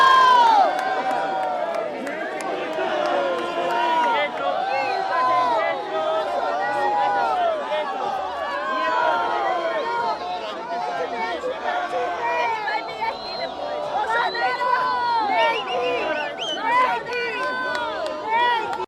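Large crowd of Bolsonaro supporters, mostly Brazilians with many children, cheering and shouting continuously at close range, with dense chatter and scattered voices throughout.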